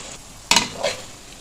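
Keema frying in a pan with fresh coriander, stirred in two brief scraping bursts, the first louder and sharper, the second softer, over a faint steady sizzle in a quiet kitchen.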